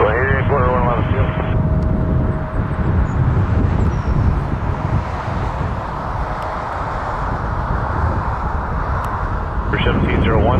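A fixed-wing airliner taking off at Toronto Pearson airport, a loud continuous roaring jet engine rumble held steady for the whole stretch, with brief radio chatter at the start and end.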